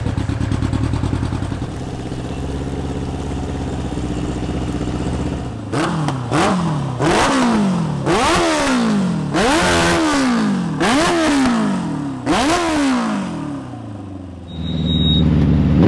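A light race car powered by a streetbike engine accelerates around a track, droning steadily before climbing through a rapid series of high revving shifts, loud and close, with each gear rising and dropping in turn.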